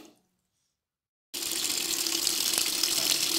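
Tap water gushes steadily into a sink to wash freshly harvested celery, starting abruptly after a silent pause and continuing as a loud, even rush.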